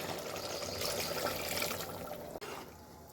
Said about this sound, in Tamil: நான் 2 கிளாஸ் போட்டிருக்கிறதுனால 3 கிளாஸ் தண்ணி ஊற்றுறேன்.